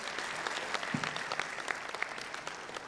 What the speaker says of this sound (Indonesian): Tepuk tangan buat Ibu Rina.